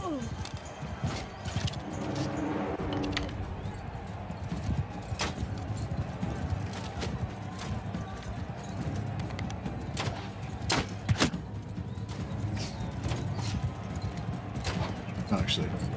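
Horse hooves clip-clopping in a medieval combat video game with knights and crossbows, a dense irregular patter of hoofbeats with sharp clanks and impacts over continuous battle noise, while someone talks over it.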